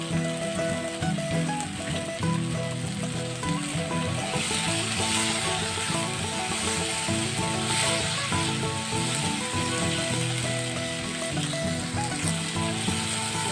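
Raisins fry in a pan of semolina upma with a continuous close sizzle, overlaid by rapid clicking and scraping from stirring, steady throughout.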